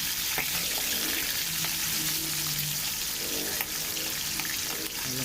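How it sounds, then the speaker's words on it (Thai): Small pieces of catfish frying in hot oil, a dense continuous close sizzle with scattered pops, a faint tone briefly audible beneath it. "พอน้ำมันร้อนเราทำการใส่ปลาดุกลงไปเลยครับลงไปทอดนะครับ"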